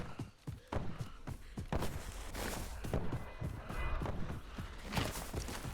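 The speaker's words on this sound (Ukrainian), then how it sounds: "Десь хтось стріляє" Sharp gunshots crack in quick irregular bursts among footsteps and clattering, with a faint voice now and then.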